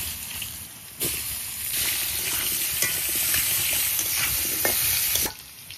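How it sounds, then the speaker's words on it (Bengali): Washed, cut potatoes sizzle in hot oil tempered with bay leaves and cumin in a pan for a Bengali rui fish curry, a steady loud frying hiss with stirring scrapes and sharper bursts near the start and end. "আর এই যে আলুটা কেটে রেখেছি, আলুটা একদম ধুয়ে পরিষ্কার করাই রয়েছে, তো এই আলু এখন আমি ফোড়নের মধ্যে দিয়ে দেবো।"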